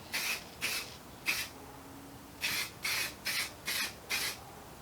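An aerosol spray paint tin sprays a car headlight in eight short hissing bursts, the first three spaced apart and the last five in quicker succession, each a close, crisp spurt separated by near silence.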